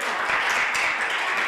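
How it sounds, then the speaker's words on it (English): Church congregation applauding during an Advent Sunday morning service, a steady broadband wash of clapping that fills the whole short moment at even loudness. "And the crowd went wild."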